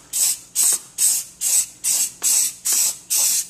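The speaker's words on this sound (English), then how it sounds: "you're gonna wanna prime the gun." Rust-Oleum spray primer hisses from an aerosol can onto an airsoft gun in eight short, evenly spaced bursts, close and loud with brief pauses between each spray.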